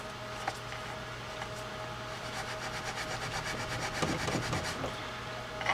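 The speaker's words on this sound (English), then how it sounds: "We're going to take a piece of steel wool, and we're just going to get off any debris that might be on the back of that." Steel wool rubs and scrubs across a drag washer from a Penn Spinfisher fishing reel, a faint, raspy scratching with a quick burst of strokes near the end, against low background hum.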